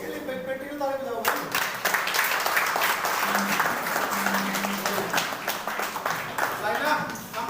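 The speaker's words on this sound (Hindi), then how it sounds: "जो उसके लिए बेटी को ताली बजाओ।" An indoor audience at an event in Gurgaon breaks into dense, sustained applause right after a brief spoken voice. Many hands clap together, close and loud, and the clapping carries on to the end.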